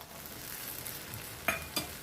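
Small tomatoes tipped into a frying pan set off a soft, continuous sizzle, followed by two sharp utensil clacks close by near the end, with no voices.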